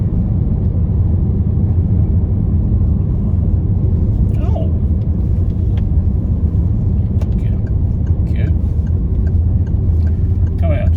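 A car drives along a road during a restricted driving test in Rangiora, a steady loud engine and road rumble building as it passes a corner and accelerates, with occasional faint higher noises over the top.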